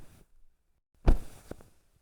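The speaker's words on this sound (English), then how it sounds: "some pillow hits." Pillow hits used as impact source material: a short quiet rustle, then one soft, muffled thump followed by a second lighter pat, dry and close.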